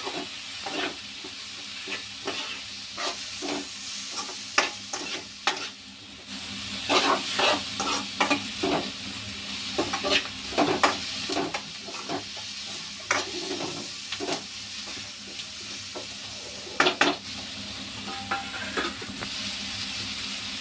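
Vegetable manchurian mixture with turmeric and chili powder is stirred and fried in a pan, producing continuous sizzling under frequent sharp spoon scrapes and taps that come in irregular bursts, with no talking.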